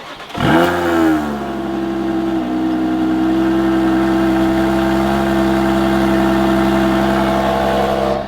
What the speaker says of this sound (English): We're going to give them a cold start